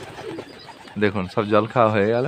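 Pigeons coo in a few low, rolling bursts while drinking water in a loft, close by, with someone talking over and between the calls.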